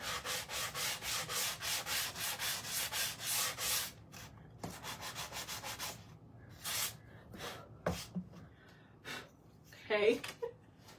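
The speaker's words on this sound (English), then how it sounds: "I'm going to sand this down really quickly. I'm just going to sand the edges." A pumpkin craft piece gets hand-sanded along its edges, with rhythmic scratchy rubbing strokes repeating close by for several seconds, then scattered lighter rubs and breathy reactions.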